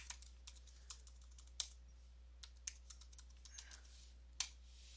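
A computer keyboard clicks quietly as a password is entered, with scattered, irregular keystrokes over a low steady hum and a few sharper taps standing out.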